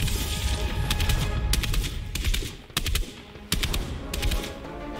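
Fortnite burst rifle fires in several short bursts of rapid, sharp reports, loud and close over a dense game soundscape.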